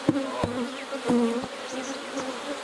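Agitated honey bees buzzing during a hive inspection, a continuous close drone with shifting pitch from several insects, broken by a few sharp knocks of handling the hive.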